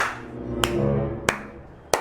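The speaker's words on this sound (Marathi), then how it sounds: "तंबाखू मळतोय" Three sharp, loud palm slaps spaced about evenly apart, each a single crisp smack, made while rubbing chewing tobacco in the palm, with a low steady indoor hum between them.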